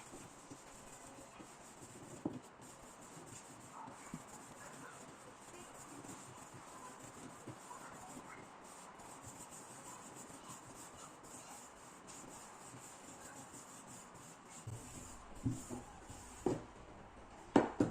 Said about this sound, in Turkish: Merdane ile tepsimize göre açıyoruz.